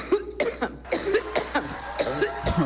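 A compilation of someone coughing, with a rapid series of close, sharp coughs and throat clearing bursting out in quick succession, some run together as short fits.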